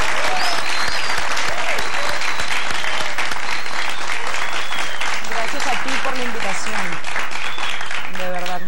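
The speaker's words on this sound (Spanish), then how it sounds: "Un aplauso." Studio audience applause on a late-night talk show, a thick, continuous clapping roar lasting several seconds while voices speak over it.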